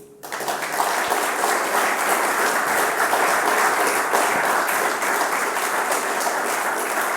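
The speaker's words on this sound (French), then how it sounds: "c'est grâce à la vision de Charles Genesi que je vous demande d'applaudir" Audience applause in a conference hall at a French departmental event, a dense, steady wash of many hands clapping that swells in quickly and holds loud and even throughout.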